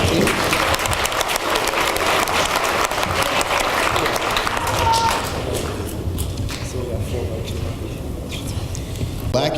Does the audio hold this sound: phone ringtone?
no